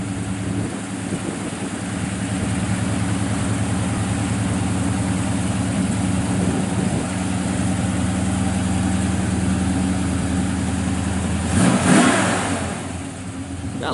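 A 1964 Chevrolet Chevelle SS with headers and dual exhaust idles with a steady low rumble, then gives a sharp rev near the end before settling back.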